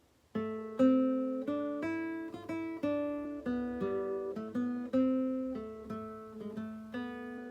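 A guitar plays a short melody of about a dozen picked notes over low bass notes, each note decaying before the next.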